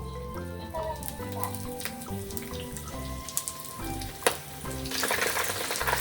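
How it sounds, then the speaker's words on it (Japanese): Shrimp going into frying oil at 170 degrees, light clinks and stirring noises at first, then a bright, spreading sizzle that grows louder near the end. "はい、170度になりましたね。 はい、じゃあ揚げていきます。"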